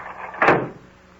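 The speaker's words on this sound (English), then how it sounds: "Close the door, quick." A door shuts quickly with one short, solid thud that fades fast, close by in a quiet room.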